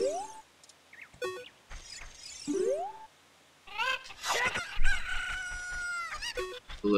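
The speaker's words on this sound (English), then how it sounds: "Hello, chicken." A rooster crows in the Legend of Zelda: Ocarina of Time Master Quest game, several cock-a-doodle-doo calls rising and falling over about seven seconds, with clucking and a few short bursts in between, fairly loud and clear.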